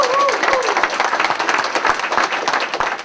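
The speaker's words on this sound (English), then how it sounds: "Let's give them a great round of applause." An audience applauds at a college dedication ceremony for a campus dental lab, a loud, dense wash of many hands clapping at once, with voices mixed in.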